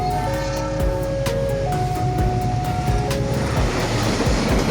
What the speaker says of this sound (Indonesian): kereta api Ranggajati relasi Jember Cirebon Kejaksan melintas pada pukul 13:40